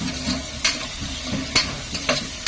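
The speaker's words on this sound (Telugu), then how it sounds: "క్యారెట్ వేసుకొని బాగా కలుపుకోవాలి." Carrots stirred in hot oil in a pot, a low steady sizzle broken by a few sharp scrapes of the spoon against the metal, close and fairly quiet.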